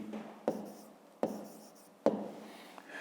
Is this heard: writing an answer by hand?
yes